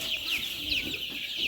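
Tiger breed chickens cluck at a poultry farm in Basail, Tangail, with short, repeated high calls close by against a low background hum.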